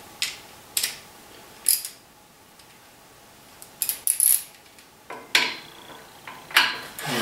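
Clamps being tightened on a wooden crosscut sled, a series of sharp metallic clicks and ratcheting snaps at irregular intervals, fairly close and alone.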